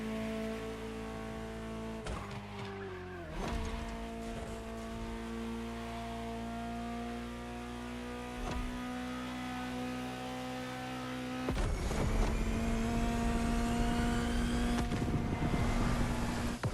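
Iconic Ferrari sports car engines idle and rev in a steady harmonic drone, rising louder and brighter near the end.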